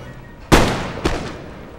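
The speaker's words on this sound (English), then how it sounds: "they're gonna get quite a few rank shots up on me" Musket ranks fire volleys in the Empire: Total War video game, with two loud, booming crackling bursts about half a second apart, each trailing off into a rumbling decay.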